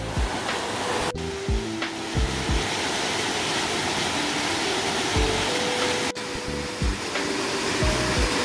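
Lower cascades beneath Yukdam Falls in Seoraksan's Towanggol valley pour in a loud, unbroken roar of rushing water, a steady broadband hiss filling the scene from start to finish.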